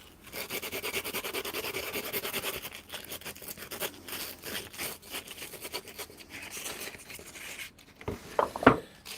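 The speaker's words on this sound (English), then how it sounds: "I think a bit of sandpaper now" Sandpaper rubs over body filler on a van, making rapid back-and-forth rasping strokes in close, fairly quiet bursts, pausing near the end for a few louder knocks and scrapes, with no talking.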